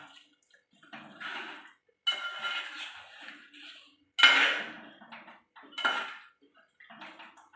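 Chicken curry being stirred in a pot, with a series of short scraping and clinking bursts of spoon against metal, separated by brief pauses and fairly close.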